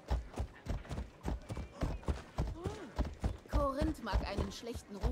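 A horse's hooves clop in a steady trotting rhythm in Assassin's Creed Odyssey, sharp and close, while a person talks over them and other game sounds chirp in between.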